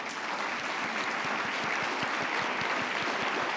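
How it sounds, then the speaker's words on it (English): Audience members at a Kansas City University of Medicine and Biosciences event give a round of applause, steady, dense clapping from many hands filling the whole moment at an even level. "I'd like to ask these folks to please stand and a round of applause."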